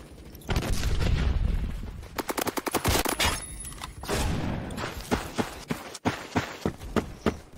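The SCAR PDW fires in the shooter game Phantom Forces in rapid automatic bursts and single cracking shots, loud and close, with brief pauses between strings of fire.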